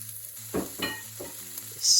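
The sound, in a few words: leeks, onions, garlic and potatoes sauteing in a pan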